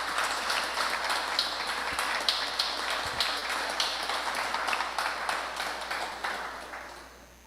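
A church congregation applauds during a Wednesday faith service, a continuous wash of many hands clapping that holds steady and then fades slightly toward the end, with no voices on top.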